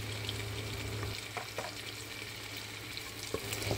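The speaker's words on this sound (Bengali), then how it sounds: "এখন অ্যাড করে দিচ্ছি রসুনের কুচি" Chopped garlic frying in a pan alongside onion, a quiet continuous sizzle broken by a few sharp spatula stirs and scrapes, no voices.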